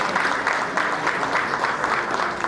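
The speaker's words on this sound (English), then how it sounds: "A round of applause for past executive," A crowd applauds steadily at an independence celebration and awards gala, a dense wash of many hands clapping at an even level throughout.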